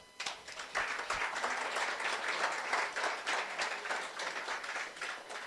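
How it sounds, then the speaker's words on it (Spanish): Congregation applause at a pastoral luncheon after a song, a sustained, dense clapping from many people that starts abruptly and holds steady, moderately distant and soft. "Fuerte aplausos"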